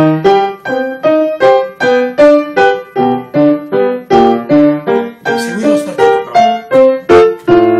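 Piano playing a Beethoven sonata arpeggio passage slowly, repeated broken-chord figures rising and falling in an even, steady rhythm, loud and close with no talking.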